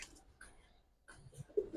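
Giribaz pigeons coo softly in a few short, faint bursts separated by a brief quiet gap, heard close by at a pigeon seller's.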